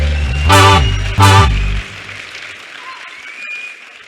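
A church congregation claps and cheers in praise of God in two short loud bursts, voices ringing through the applause before it falls away to quiet room tone.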